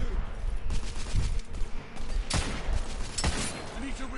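Gunfire in the video game The Order: 1886, a few sharp shots and bursts in a firefight, with voices talking and calling out between the blasts.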